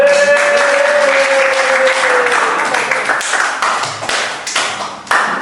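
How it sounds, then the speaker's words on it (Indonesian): A school classroom of students applauding a presenting group, lively hand clapping with sharp taps, loud at first and thinning out, a voice briefly heard over it. "Kasih tepuk tangan."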